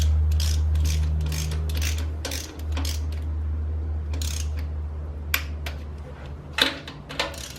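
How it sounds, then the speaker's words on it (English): An inch-pound torque wrench tightens the oil pan bolts on a Ford FE stroker engine, giving repeated quick ratcheting clicks in short bursts over a steady low hum, with a couple of sharper clicks near the end. "The nice thing about using an inch-pound torque wrench is you don't have to worry about over tightening this thing"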